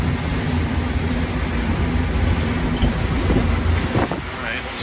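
Motorboat engines run steadily at speed during a sea trial, trim tabs lowered and refurbished props fitted, a constant loud low drone with wind buffeting the microphone throughout.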